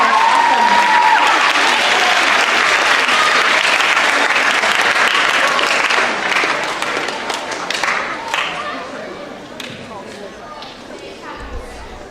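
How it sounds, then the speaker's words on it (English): A school audience at an eighth grade step-up day applauds the show choir, with loud, steady clapping and some cheering that gradually thins and fades toward the end. "let's give a round of applause for all our show choir people"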